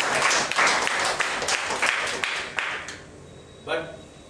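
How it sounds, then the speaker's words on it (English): An audience at a talk on ragging in professional colleges breaks into a brief burst of loud clapping that fades after about three seconds, followed by a short spoken voice. "Give a round of applause."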